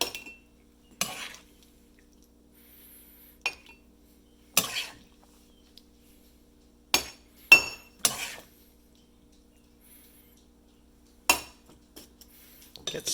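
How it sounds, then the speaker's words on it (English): A spoon scoops strawberry fruit salad into a cup, producing scattered sharp clinks and taps against the container at irregular intervals, separated by near silence. "Let's serve ourselves some fruit salad."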